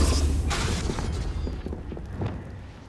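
A Confringo blasting spell goes off in the Hogwarts Legacy video game as one sharp, booming burst that fades into a rumbling, crackling tail over low background noise.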